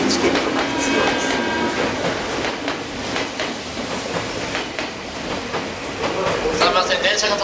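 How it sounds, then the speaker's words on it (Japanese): A Meitetsu limited express train pulls into a station platform, with a steady rolling rumble and faint rail clatter throughout, under platform announcements and ambient station noise. "電車が到着いたします。"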